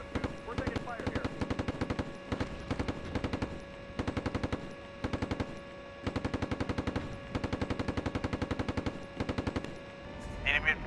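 Rapid bursts of automatic machine-gun fire in a military video game, steady rattling volleys repeating in close succession with short pauses, loud and close.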